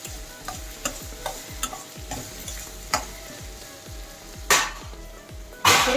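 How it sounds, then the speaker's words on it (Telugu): Torn bay leaves and whole spices fry in hot oil for veg pulao, a crackling sizzle broken by regular spatula taps and stirring scrapes against the pan, ending in two bursts of louder hissing. "ఒక 2 బిర్యానీ ఆకులని ఇలాగా తుంచి వేసుకోండి. మంచి వాసన వస్తుందండి వేగుతుంటే."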